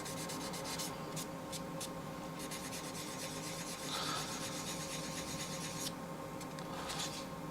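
Fine sandpaper rubbing over the clear coat of a waterslide decal, a soft steady rasping scrape with quick back-and-forth strokes, close and quiet with no talking.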